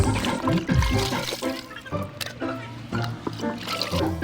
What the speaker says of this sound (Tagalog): din ato hugasan og tubig, din putangan din nato og tubig para bunlawan sa ato ang mga sapatos